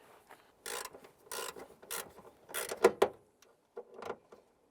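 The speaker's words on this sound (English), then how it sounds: "Once that screw bottoms out, just give it a little bit more." Screw being driven in by hand to mount the high-mount third brake light on a 2005-2010 Chrysler 300, heard as a series of short, close ratcheting and scraping bursts with brief pauses between turns.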